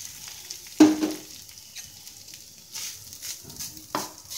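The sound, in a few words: grated coconut frying in ghee in a thick pan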